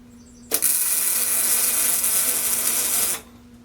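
A tack weld on scrap-metal braces for a shop tool cart: a steady, loud crackling hiss starts abruptly, holds for about two and a half seconds, then cuts off, close by and with no voices.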